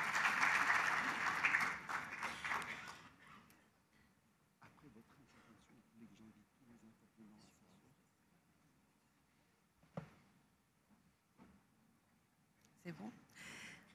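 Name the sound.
applause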